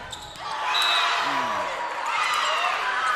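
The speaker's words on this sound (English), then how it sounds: "Crowd is not liking that call." Crowd noise swells through a high school volleyball gym in an Arlington versus Bartlett match, a loud sustained roar of disapproving voices with scattered shouts and whistles that fades slightly, then rises again.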